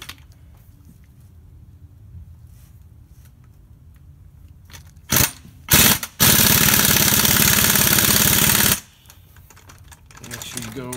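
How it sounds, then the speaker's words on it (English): A pneumatic impact wrench works on the front strut of a 2005-2010 Jeep Grand Cherokee, giving two short bursts followed by a loud sustained hammering rattle of about two and a half seconds, with quieter shop noise around it. "Now you don't need a pneumatic impact for this, but it does make life a lot easier."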